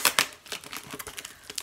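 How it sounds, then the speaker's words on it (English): Paper mail packaging from a giveaway prize being torn open by hand, close and loud, with sharp ripping bursts at first followed by a run of crinkling and crackling rustles. "So let's just rip into it and see what we have."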